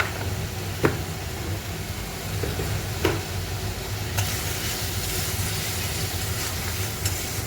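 Fish head and potato curry sautéing in a pan, a steady low sizzle with a few sharp scrapes of stirring spaced through, close and moderately loud with no talk.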